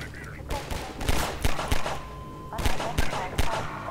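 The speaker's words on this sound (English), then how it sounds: "Alright, two shots to the head will work." Short bursts of gunfire in Half-Life 2, several sharp close shots grouped in two volleys with a brief pause between them, loud and punchy against a quiet background.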